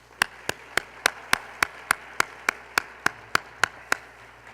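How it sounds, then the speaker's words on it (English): A lone pair of hands claps slowly and evenly, about fifteen sharp, separate claps at a steady pace, fairly close, over a quiet room hum. "let's join me in a round of applause"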